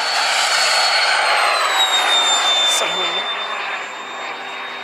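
A light airplane landing with gear down at an airfield, its engine drone and whining tones loud and near, easing slightly as it rolls out.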